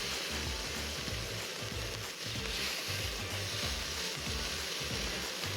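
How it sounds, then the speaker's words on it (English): Pork belly sears on a hot burner plate at a quarter heat, giving a steady, dense sizzle that holds evenly close up with no voices. "We're getting good caramelization on the pork belly"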